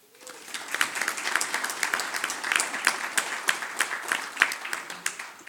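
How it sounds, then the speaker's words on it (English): Applause from a conference audience builds quickly from silence into a steady patter of individual hand claps, moderately close and unaccompanied by speech. "we should give ourselves a wee round of applause"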